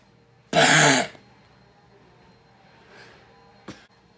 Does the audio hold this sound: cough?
yes